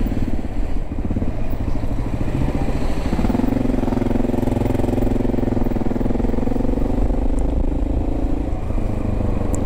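A Yamaha MT-09 motorcycle rides past with a steady engine drone that swells and holds near the listener over several seconds, with no talk in the clip.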